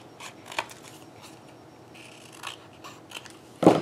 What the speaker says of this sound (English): I will need to trim out the photo just a little bit. And I'm just going to hand cut it.